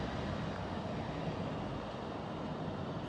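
An EU07 electric locomotive shunting at a main railway station, a steady broadband rumble of rolling rail stock and motor noise holding level throughout.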